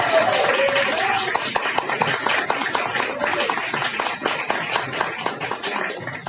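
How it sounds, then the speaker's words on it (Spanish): An audience at a book presentation claps steadily, a dense, even patter of many hands held at a constant level for several seconds, with faint voices mixed in. "Demos un fuerte aplauso al maestro Gustavo Castañeda"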